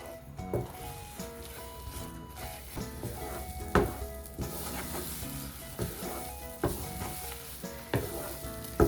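Semolina and milk being stirred in a pan over a low flame for cashew burfi, with soft scraping strokes and a gentle bubbling sizzle repeating steadily, close and fairly quiet, with no talk.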